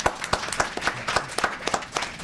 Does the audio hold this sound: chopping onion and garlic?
no